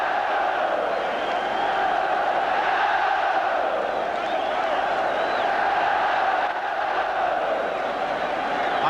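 A large stadium crowd at the 1988 Scottish Cup Final between Celtic and Dundee United roars and cheers steadily as the Celtic players come down, a sustained distant wall of voices.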